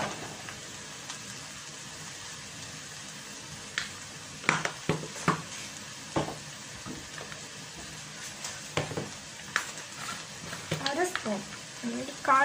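Spice powders, Kashmiri chili and coriander, being roasted in a pan on a low flame for a Kerala-style fish curry: a soft sizzle under occasional clinks and scrapes of a spoon against the pan, while a person talks.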